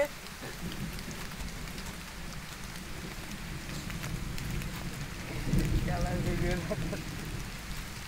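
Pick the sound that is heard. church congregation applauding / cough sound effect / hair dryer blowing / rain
rain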